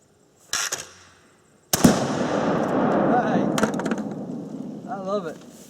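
A Remington 887 shotgun fires at an exploding clay target outdoors, with a sharp close blast, a second loud boom, and a long rumbling roar that fades out. A voice speaks briefly at the end.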